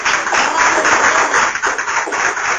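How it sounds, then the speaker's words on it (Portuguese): Church congregation clapping for Jesus, a dense burst of many hands applauding together, loud and close, steady for a couple of seconds. "palmas para Jesus"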